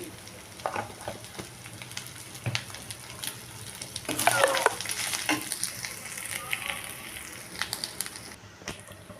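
Masala for chicken fry sizzling in a pan with steady frying hiss and occasional stirring scrapes and clinks, one louder burst of spattering midway, heard close without talk.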